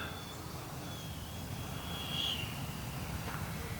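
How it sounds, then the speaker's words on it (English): A Freewing Avanti S 80mm electric ducted-fan RC jet flies overhead, a steady, fairly faint rushing whine that swells slightly mid-pass. "Oh, what a sweet flying jet."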